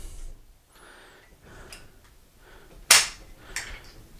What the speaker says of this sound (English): Same thing, except you're using your bolt on your Vetterli. Extracts out the top. There goes your lifter up.